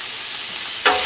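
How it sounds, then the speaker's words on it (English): Poblano pepper and onion fry in a pan with a steady, close hiss of sizzling, broken near the end by a brief stirring scrape, with no talking. "Just cook until the poblano and onion are tender."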